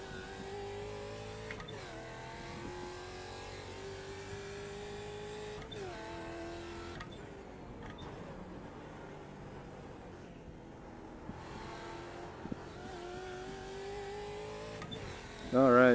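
An American Muscle Series race car laps Sandown circuit in practice, its engine droning steadily from inside with rising and falling pitch through gear changes and a brief louder burst at the end.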